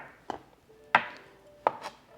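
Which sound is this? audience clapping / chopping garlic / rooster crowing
chopping garlic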